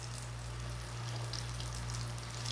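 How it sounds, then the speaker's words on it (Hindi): Mutton shami kababs fry in a pan, turned to cook the second side, giving a steady soft crackling sizzle with faint pops, close and even throughout with a low hum underneath. "हम दूसरी तरफ से शामी कबाब को फ्राई कर रहे हैं।"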